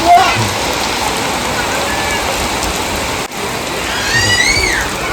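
Heavy rain pours down steadily and loudly, a constant close hiss of drops striking surfaces, with a brief dip midway.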